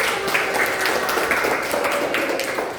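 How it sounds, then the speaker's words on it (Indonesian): Classmates give a short burst of clapping for a student in a primary school lesson, a soft, steady patter of many hands from a small group. "Beri tepuk tangan dulu buat Mary"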